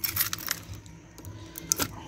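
Small metal keys for a spare tire lock on a Pajero with a 4M40 engine jangle and clink lightly in a few quick bursts, close by and fairly faint.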